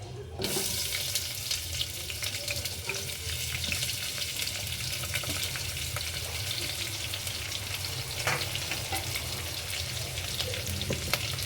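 Onions frying in a pan for vegetable biryani: a steady, close sizzle with a hissing wash throughout and occasional faint stirring clicks.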